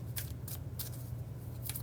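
Tarot cards are dropped and shuffled during a reading, giving four brisk bursts of riffling and flicking close up over a steady low hum.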